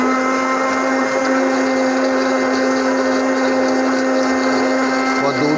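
A kitchen blender whirs steadily, blending a chilled fig milkshake with milk, a loud, even motor drone running throughout with no change in pace.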